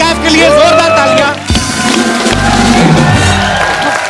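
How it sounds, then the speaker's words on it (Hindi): Cheering and applause from a TV comedy show studio audience greeting Salman Khan and Katrina Kaif, a loud, sustained crowd roar mixed with music and shouts. "वो एक बार सलमान भाई और कैटरीना कैफ के लिए जोरदार तालियां।"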